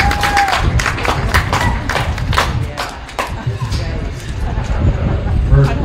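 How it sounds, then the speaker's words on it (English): Spectators at a county fair sheep show clap for the young exhibitors: a loud, irregular run of sharp hand claps and scattered cheers, with some talking mixed in throughout. "let's give all these kids a round of applause"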